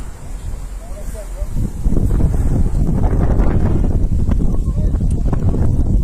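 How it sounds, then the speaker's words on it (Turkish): Strong wind buffets and roars across the microphone near a forest fire, growing louder after a couple of seconds and staying gusty throughout. "Rüzgar yön değiştirdi. Şimdi bize doğru esiyor."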